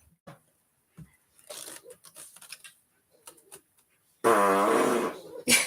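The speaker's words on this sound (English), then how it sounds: "That was a bad fart." A woman lets out a loud, raspy fart near the end, short and close, after a stretch of quiet clicks and faint sounds.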